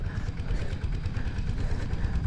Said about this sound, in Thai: รถไถเดินตาม